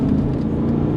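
A Mercedes W210 E55 AMG engine roars under acceleration, a steady low rumbling drone heard from close by for about a second.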